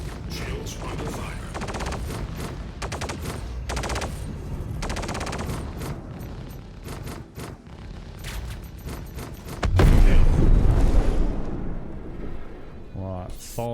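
Star Citizen space combat with continuous rapid weapons fire, dense repeated shots and booms with a louder burst of impacts near the end, while a voice speaks over the fighting.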